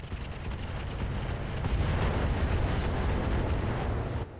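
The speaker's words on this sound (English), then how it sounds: "SRM ammo explosion from the rockets" Sustained, rumbling blast from an SRM ammunition explosion set off by rockets in the RogueTech BattleTech mech game, loud and continuous for several seconds with no voices over it.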